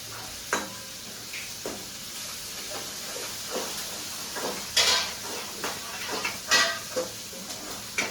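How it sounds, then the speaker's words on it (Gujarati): A steady sizzle of cumin seeds frying in hot oil for dal fry, with occasional sharp crackles and stirring clatters over a constant hiss. "જીરાનો વઘાર કર્યો."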